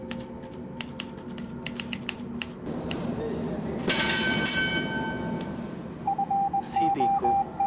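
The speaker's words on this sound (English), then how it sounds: "he had opened up the other wire and was using both typewriters" Two typewriters clatter together at a news wire desk, bursts of quick key strikes and carriage bells, with a low continuous mechanical hum beneath and a brief rising tone near the end.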